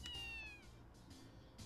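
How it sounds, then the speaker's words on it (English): A cat gives a single short meow near the start, fairly clear over a soft ambient background in the Hakuoki SSL video game. "I heard a meow suddenly."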